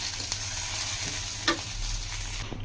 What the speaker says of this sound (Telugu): పచ్చిమిర్చి ఇలాగ ఫ్రై చేసుకోండి, ఎక్కువ ఫ్రై చేయబాకండి